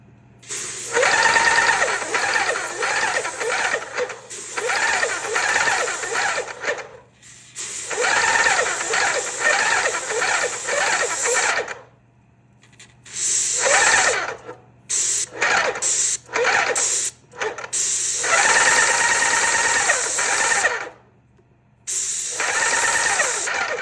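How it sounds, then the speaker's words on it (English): A sander working over indoor wooden lattice, loud buzzing runs in repeated bursts of several seconds, separated by short pauses when the tool stops. "So I can't wait to run the sander over them."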